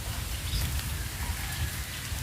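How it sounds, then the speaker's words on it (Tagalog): Steady rain pours outdoors during a fishing trip, a dense, even hiss with a low rumbling undertone, close and continuous with no talking. "bago lumakas yung ulan"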